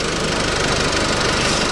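A warm pickup truck engine idles steadily just after starting, a continuous close rumble with a slight knocking texture and no other sounds.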